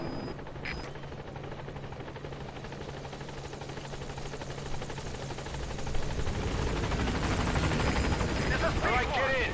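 A helicopter approaches a landing zone in Metal Gear Solid V, its rotor thump building gradually from a distance and growing louder toward the end under steady game ambience, with a voice speaking briefly.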